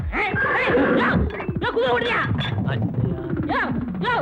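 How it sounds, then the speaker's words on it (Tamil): A horse neighs loudly and repeatedly up close, its shrill, wavering whinnies mixed with people talking throughout. "குப்புசாமி இன்ஜெக்ஷன் போட போறேன் குதிரை ஓடிடாம பாத்துக்க"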